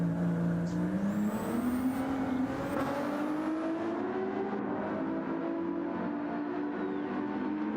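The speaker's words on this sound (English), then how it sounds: "Banging down through the gears." Porsche Cup race car at Laguna Seca in a racing video game, engine dropping through the gears with a rising, shifting engine note that runs loud and continuous throughout, with no voices.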